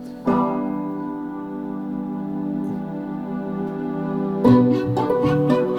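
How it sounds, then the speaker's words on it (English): A piano chord rings out and sustains with warm resonance, then a second chord is struck near the end, played alone and up close. "I had him play a real piano on the same chords."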